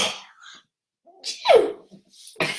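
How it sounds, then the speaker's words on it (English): A single loud human sneeze close to the mic, with a sharp breathy burst in the middle, bracketed by brief breaths and mouth noises before and after. "I want to start sneezing already."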